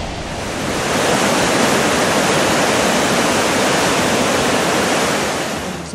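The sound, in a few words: rushing water of the swollen Rímac river under a bridge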